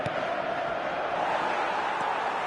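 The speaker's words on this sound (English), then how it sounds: "the crowd level has gone up a notch or 10" A stadium crowd roars in an eFootball 2026 match after a Milan goal, a dense, sustained wash of noise at steady volume with no clear voices standing out.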